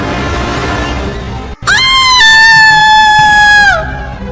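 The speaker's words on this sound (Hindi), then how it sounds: "वो बस एक तीखी आवाज में चीख पड़ी, जिससे वहां का सन्नाटा टूट गया।" A woman lets out a long, sharp, high-pitched scream, loud and close, holding steady before dropping away at the end.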